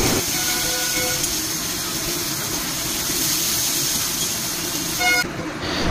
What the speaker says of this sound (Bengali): এবার স্লাইস করা পেঁয়াজগুলো দিয়ে দিলাম।